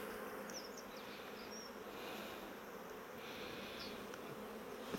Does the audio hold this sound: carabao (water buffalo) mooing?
no